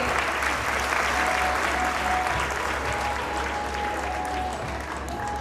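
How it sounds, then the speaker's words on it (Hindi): A school event audience claps loudly for the performing jungle team, a dense, continuous wash of applause from a large crowd lasting several seconds with a faint tone running underneath. "एक बार फिर से जोरदार तालियां हो जाए हमारी जंगल टीम के लिए"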